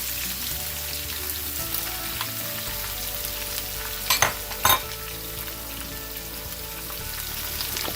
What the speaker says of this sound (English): And I'm going to add now all of the onions.